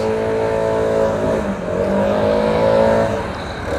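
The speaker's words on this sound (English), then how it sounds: "I can't stand them gas blowers." A gas-powered leaf blower droning outside, a continuous engine whine that swells and eases slightly, fairly loud and unbroken for a few seconds.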